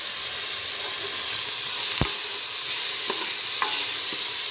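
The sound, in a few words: onion, garlic and tomato sizzling while stirred in pan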